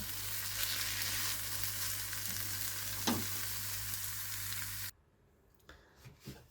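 Macaroni with pumpkin and melting cheese sizzles steadily in a frying pan as it is stirred, a close, continuous hiss with a scrape of the spoon, then the sizzle abruptly stops when the heat is switched off.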